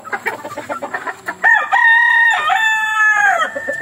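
Young rooster (stag) crowing close and loud, one long wavering cock-a-doodle-doo following a burst of clucking.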